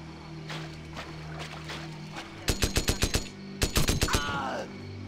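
Machine gun fire in the Wii shooter Modern Warfare Reflex: two sharp bursts of about six rapid shots each, loud and close over a low rumbling game backdrop, with a fading ringing tail after the second burst.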